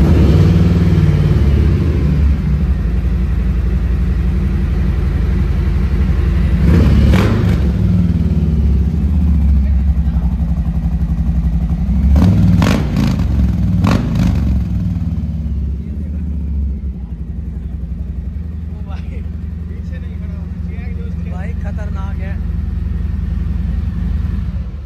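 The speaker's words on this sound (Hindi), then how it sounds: "यहाँ पे फैट बॉय की आवाज़ हो रही है।" A Harley-Davidson Fat Boy motorcycle fitted with an aftermarket Vance & Hines exhaust idles with a loud, deep, lumpy rumble, with several sharp throttle blips standing out near the start before it settles back to a steady idle.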